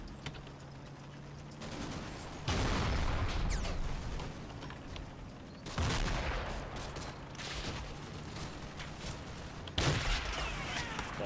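Bursts of automatic tracer fire from a Hellcat tank destroyer in a combat video game, several loud sustained volleys separated by short pauses over a steady battlefield rumble.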